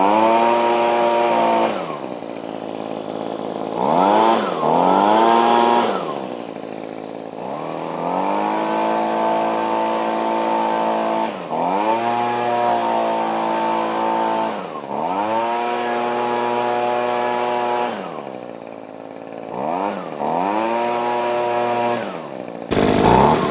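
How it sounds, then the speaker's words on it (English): An Echo PB-2520 handheld leaf blower runs loud and close, its engine note rising and falling through repeated throttle bursts and idles, with a harmonic two-stroke whine, heard alone without talk. "I don't really have anything to leaf blow, but we'll just give it a try here."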